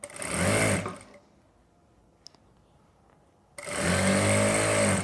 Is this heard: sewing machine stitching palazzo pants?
yes